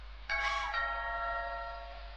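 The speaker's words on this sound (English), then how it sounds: "Ding dong." Doorbell chiming inside a house in the video game What Remains of Edith Finch, a single clear, bright ring with a ringing tail that slowly fades, heard alone over a low steady hum.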